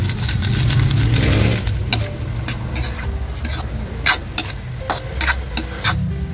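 Cabbage stir-frying in a pan, starting with a loud rushing sizzle that settles into a steadier fry, broken by several sharp close clacks and scrapes of stirring, with no talking.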